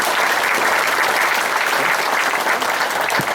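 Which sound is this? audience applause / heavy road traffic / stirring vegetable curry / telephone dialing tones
audience applause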